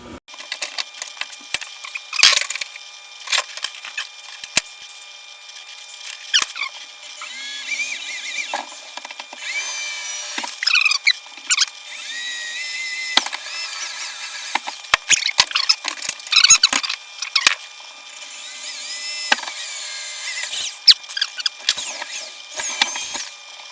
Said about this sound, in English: Drill some pilot holes and then gradually get bigger.